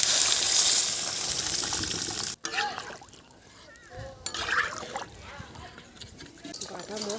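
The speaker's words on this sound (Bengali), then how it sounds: "এবারে জল ঢেলে দেব।" Water gushes in a loud, steady pour into a pan of cooked spice paste for a Bengali fish curry, then stops abruptly, leaving faint kitchen clatter and a person talking.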